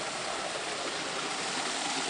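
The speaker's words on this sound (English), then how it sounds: "In between the hills surrounding the community is this waterfall" A waterfall in the hills around the Kurudu community gives a steady, hissing rush of falling water, a continuous even roar with no voices.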